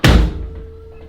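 A 1974 VW Beetle door being test-fitted on stands swings shut with one loud, close, heavy thunk, leaving a faint ringing hum that fades slowly afterward.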